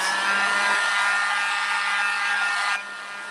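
A hair dryer blows with a steady, close whoosh and hum while drying paint on a winter door hanger, then drops to a softer setting near the end.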